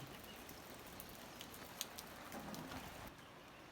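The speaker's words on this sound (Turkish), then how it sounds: "Bugün gene yağmurlu bir gün." Steady light rain falls on a rainy day in a Rize village in Turkey, a soft continuous patter with a few scattered drops and faint bird sounds, no talking.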